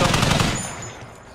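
Loud burst of machine gun fire from the tactical shooter game Squad, rapid close shots at the start that thin out and fade over about a second, with no talk over them.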